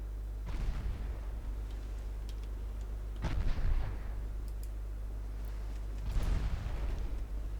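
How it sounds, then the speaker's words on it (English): Naval gunfire from 7-inch guns in the warship game Ultimate Admiral Dreadnoughts: three heavy booming salvos a few seconds apart, each a sharp blast with a rumbling tail over a steady low engine hum. "7-inch guns already scoring hits."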